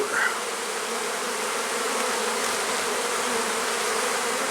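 Honeybees drone in a dense, steady buzz over an open hive frame, calm and barely smoked, a close, unbroken hum with no talk.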